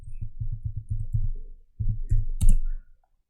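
Regular mouse clicks repeat steadily for about a second and a half, then a few more land after a short pause, close and fairly loud, with no talking, while a thumbnail is made on a design website.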